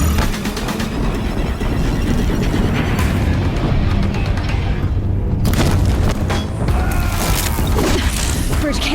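Deathbringer machine fire pounding a bridge in Horizon Zero Dawn, heavy booming impacts and crashing debris in a continuous loud barrage, with brief sharper cracks among the blasts.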